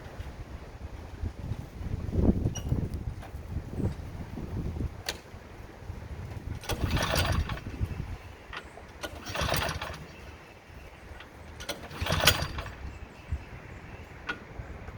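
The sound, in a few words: Craftsman snowblower engine being started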